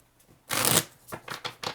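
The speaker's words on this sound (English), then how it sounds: "I'm going to put them back in shuffle again because that was way too many cards." A quick riffle of tarot cards shuffling, a bright papery burst followed by several softer flicks and taps, close and fairly quiet.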